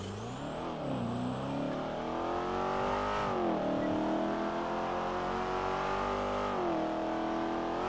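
A car engine roars during a race in GTA, revving loudly and continuously with repeated rises and dips in pitch as it shifts gears and accelerates, alone without talk.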